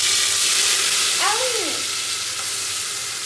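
Ground paste goes into a hot pot of Dindigul Thalappakatti-style biryani and sets off a loud, steady, hissing sizzle that fills the whole moment at close range, with a brief sliding whine partway through.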